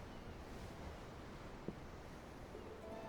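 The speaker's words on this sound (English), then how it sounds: "I'm looking at the ocean. The ocean? Yeah. The waves." Ocean waves in the video game Tales of Arise, a steady low wash of surf with a faint breezy hiss, continuous and even, with no distinct crashes standing out.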